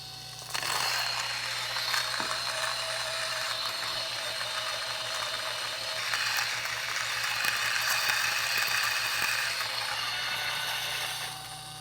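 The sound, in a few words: Baratza Vario coffee grinder grinding beans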